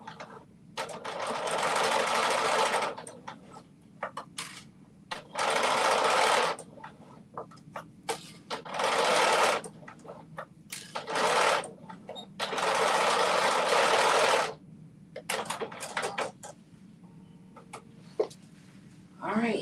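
A sewing machine stitches the second strap of a pickleball dress top, running in several sustained bursts of a few seconds each, separated by short pauses with light handling noise.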